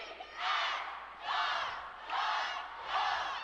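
A coed high school cheerleading team at a state competition shouts a crowd cheer in four loud, evenly spaced chanted bursts, voices together in unison and echoing in a large arena.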